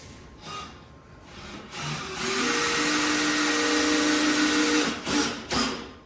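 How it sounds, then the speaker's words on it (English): A power drill, set to a slower speed, whirs up and runs steadily for a few seconds, then cuts off with short bursts as the screw seats into wood while hanging kitchen cabinets. "I like using this type of standard drill, a little bit better"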